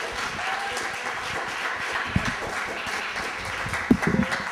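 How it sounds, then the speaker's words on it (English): Audience at a library poetry reading applauding an artist, a sustained wash of clapping from a modest crowd, even throughout with a couple of sharper claps and a brief voice near the end. "Let's give this gentleman another great round of applause."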